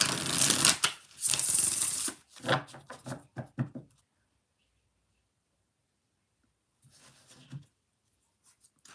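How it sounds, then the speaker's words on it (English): Tarot cards riffled and shuffled close up, a dense burst of flapping followed by a few softer taps, then quiet and a brief second shuffle. "Four more shuffles for Bobby."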